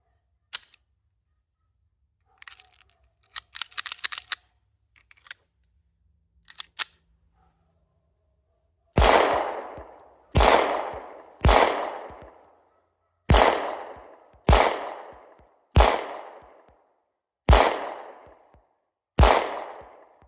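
Eight sharp, loud gunshots from a Beretta 9000S .40 caliber pistol fire at a steady pace after some quiet handling clicks and rattles, each report ringing out briefly before the next.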